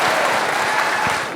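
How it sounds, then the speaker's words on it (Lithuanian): A crowd applauding, a loud, steady wash of many hands clapping at once that holds its level throughout and tapers off only slightly at the end. "Plojimai"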